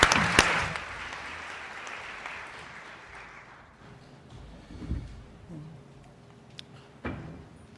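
An audience applauds to welcome a speaker at a medical talk on marijuana and cancer, a dense burst of clapping at the start that gradually thins and fades into scattered claps.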